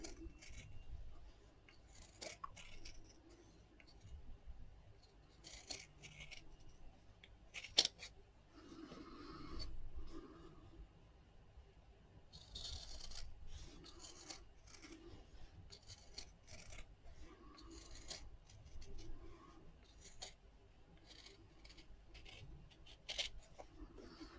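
Scissors snip and rasp through fabric along a tacking line at close range, a quiet, irregular series of cutting and rubbing sounds with no voices.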